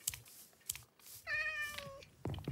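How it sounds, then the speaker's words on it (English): A single cat meow from a video game animal mod, clear and mid-distance, about a second long, set between soft keyboard clicks and typing. "Kitty cat."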